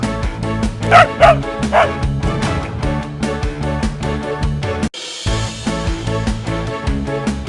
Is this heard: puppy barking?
yes